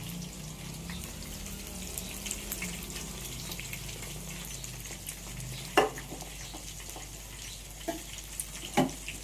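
Lentil fritters (bora) fry in hot oil with a steady, close sizzle, interrupted by a few loud scraping knocks as they are stirred around the pan near the end.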